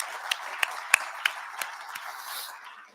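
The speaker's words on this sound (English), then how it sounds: "I'd like to give these sponsors a round of applause to thank them for their generous donations" At a Fire Time EDx gathering in Louisville, a small audience gives scattered, sparse claps, a handful of distinct hand slaps spaced apart, with a soft crowd murmur rising near the end.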